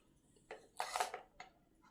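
Hot soft rice being mashed by hand on a plate, heard as a few faint, brief squelching and clinking touches against the dish, quiet and close with no talk.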